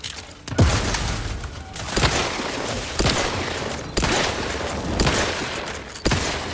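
Explosions rip through combat in the sci-fi video game The Outer Worlds 2, with a series of heavy blasts landing about a second apart over a continuous roar of battle noise and no talking.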